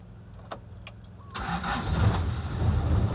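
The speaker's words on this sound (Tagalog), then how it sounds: "Andarin nga natin kung aandar ng palyado." An engine with a 4k carburetor cranks and catches after a few light clicks, then settles into a rough, close idle.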